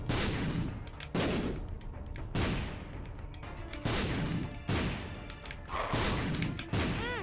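Rapid bursts of shots and explosions from The Binding of Isaac: Rebirth, loud repeated blasts in clusters with brief gaps between them, continuing throughout.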